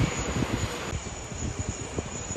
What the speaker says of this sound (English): A330-300, just arrived from Shenzhen, CSN 5048.